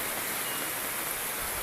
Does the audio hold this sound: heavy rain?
yes